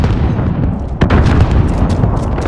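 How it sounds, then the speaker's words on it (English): Precision airstrike explosions in Call of Duty Modern Warfare rumble loudly through a dense, continuous roar, with one sharp blast standing out midway amid heavy booming gunfire, close and overwhelming. "Enemy precision airstrike."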